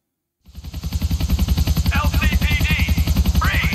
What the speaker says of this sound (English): They sent a chopper after us.